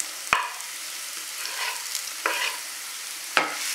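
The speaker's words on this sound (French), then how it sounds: "On va mélanger l'oignon et l'ail" Onion and garlic stirred in olive oil in a pan, a soft steady sizzle broken by a few scraping strokes of a spoon and sharp taps against the pan, with no talking.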